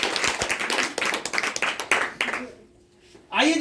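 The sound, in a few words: audience clapping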